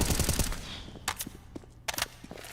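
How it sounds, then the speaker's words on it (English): Gunfire in CS:GO at a NaVi vs Vitality Blast Premier 2022 match, a burst of rapid rifle shots followed by two short clusters of sharp shots, crisp and close. "shooting through the floorboards"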